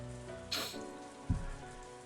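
Heavy rain falls steadily as a constant hiss, with a brief brighter splash or gust about midway and a soft low thump later, nothing else standing out.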